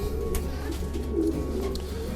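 Pigeons cooing softly inside a breeding loft, a steady low murmur of overlapping coos running throughout without pause or talk.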